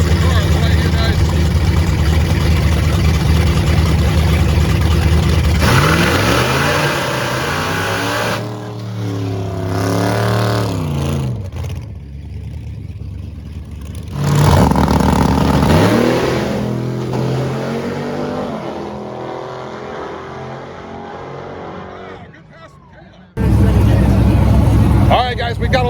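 Fast drag race cars at Dodge Roadkill Nights 2023, loud engines revving and roaring as they launch and accelerate, with pauses between runs and a sudden loud burst near the end, under crowd noise and talk.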